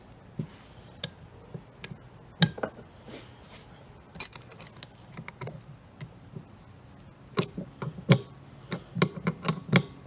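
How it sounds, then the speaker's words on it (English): A 13mm wrench works loose the rear shock absorber nut from a Mazda 3 on a bench while vice grips hold the shaft, giving faint scattered metallic clicks and ratcheting ticks that come quicker toward the end. "the vice grips are holding that shaft from spinning while I undo the nut"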